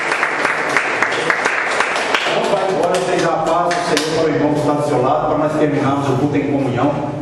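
A church congregation claps in praise to God, a steady, lively applause that fills the room throughout, mixed with voices and music.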